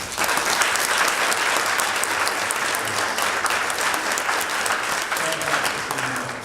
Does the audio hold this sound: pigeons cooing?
no